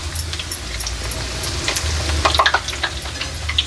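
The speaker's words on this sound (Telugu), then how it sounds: "ఈవెన్గా డీప్ ఫ్రై అవుతాయి మనకి" Gulab jamun deep frying in hot oil, a soft steady bubbling sizzle that holds throughout with faint crackles rising briefly toward the end, close and fairly quiet with no voices.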